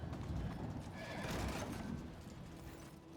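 Horse whinnying and hoofbeats in Warhammer 40,000: Rogue Trader, a loud neigh over steady galloping clip-clop that stays close and continuous, with a rumbling game soundscape underneath.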